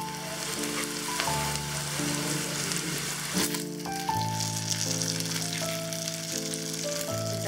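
Tomato is added to onions frying in a pan of mushroom gravy; a soft, steady sizzle runs throughout, partly masked by louder sustained musical tones.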